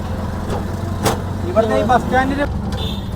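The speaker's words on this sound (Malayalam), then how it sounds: "ആഗ്രയിലെ ഓട്ടോ ആണിത്" Traffic rumbles along a street in Agra, where auto rickshaws run among cars and buses, their engines a steady low drone with a passing horn-like tonal burst and voices talking over it.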